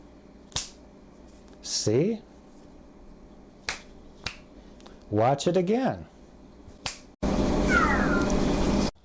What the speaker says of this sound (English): I snap my fingers